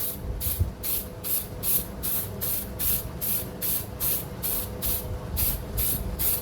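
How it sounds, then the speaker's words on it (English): Aerosol spray paint applying an undercoat, heard as a series of short, regular hissing bursts about half a second apart, close and steady with no talking. "So we start off spray painting it."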